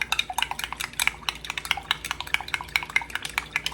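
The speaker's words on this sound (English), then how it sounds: "Now, we'll stir this up in there now. Get our onions stirred up in it." Onions being stirred in a pan while stuffed pork tenderloin is prepared, heard as a steady run of close, quick scraping and clinking taps of a utensil against the pan, with no talking.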